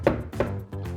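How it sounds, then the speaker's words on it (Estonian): A knife chopping onion, garlic and sun-dried tomatoes on a board, a few distinct close cuts spaced apart over a steady background hum. "Hakivalge sibul, küüslauk ja päiksekuivatatud tomatid."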